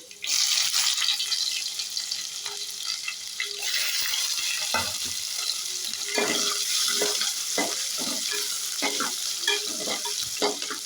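Chopped medium-sized onion and curry leaves frying in oil in a pan, a steady hiss and crackle with occasional scraping stirs and spoon knocks, close and fairly quiet, no talking.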